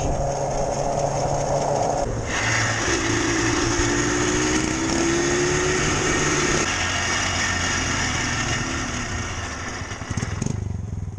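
A Yamaha Blaster 200 ATV engine running with a grindy, rough tone, a loud continuous drone with a shifting pitch as revs rise and settle, heard up close without talk.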